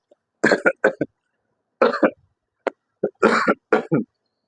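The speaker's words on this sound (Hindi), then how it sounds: "खांसी आ रही" A string of harsh, broadband coughs in several short bursts, some in quick pairs, loud and close, separated by brief pauses.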